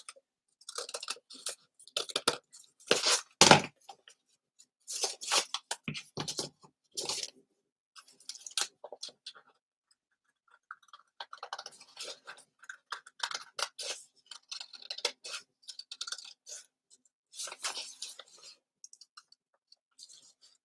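Haberdashery scissors snip through cardboard in bursts of crisp, close cuts with short pauses between strokes, no talking.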